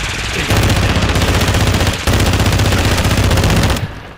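Sustained automatic machine gun fire in a Call of Duty match, loud and dense, a rapid unbroken rattle with a brief gap near the two-second mark before the burst resumes and then cuts off.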